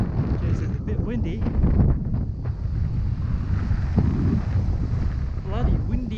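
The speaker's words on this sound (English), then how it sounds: "Jeez, it's a bit windy." Strong wind at Wineglass Bay buffets the microphone in continuous loud, rough gusts. Waves wash faintly underneath, and a voice speaks briefly over the wind.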